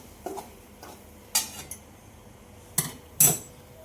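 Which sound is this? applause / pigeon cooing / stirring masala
stirring masala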